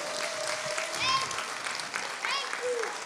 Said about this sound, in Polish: Jeszcze raz brawa.